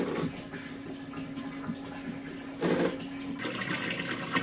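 Saltwater aquarium pumps running after being switched on, giving a steady watery gurgle and hum of circulating water, with a louder surge of splashing midway before settling back to a continuous flow.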